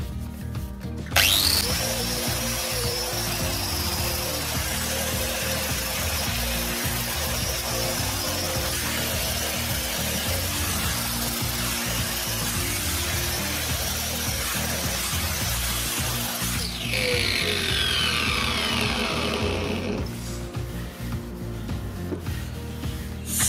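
A power sander with a 120-grit disc grinds steadily on pear wood for a long stretch, a dense continuous whir with a brief shift in tone near the end.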